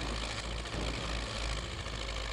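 A tractor engine, an MTZ 82 or a Zetor Crystal, runs steadily and fairly loud with a dense low rumble and a few brief dips in its drone, and no voices are heard.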